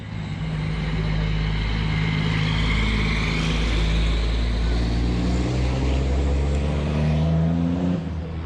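A Caterham Roadsport race car accelerates hard from a standing start at the Paul Ricard circuit in Castellet, its engine note climbing in a loud, sustained drone.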